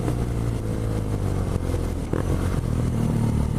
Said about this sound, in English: The engine really sticks out here.